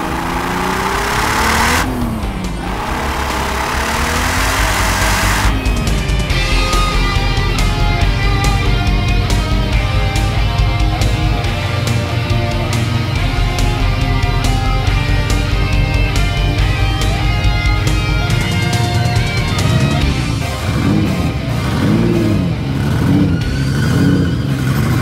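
A hand-built McLaren F1 LM replica race car sends out a loud, sustained engine roar for the whole stretch, with rising and falling revs and steady harmonic drone, close and dominant throughout.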